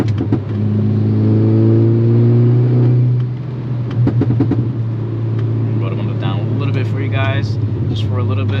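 A VW MK6 Golf R drops from 4th to 3rd with a rev-matched downshift on a rainy mountain road, the engine's drone rising in a quick blip before settling lower, with people talking over it in the cabin.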